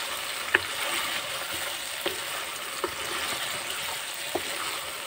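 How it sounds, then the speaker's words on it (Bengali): Taro being turned with spices in a frying pan, a steady soft sizzle underneath with a few sharp scrapes and clicks of the spoon spaced across the stretch, close and moderately quiet. "আমি এই কচুটা খুব সুন্দরভাবে নাড়িয়ে চাড়িয়ে নিচ্ছি"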